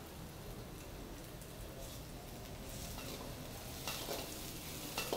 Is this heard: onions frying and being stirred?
yes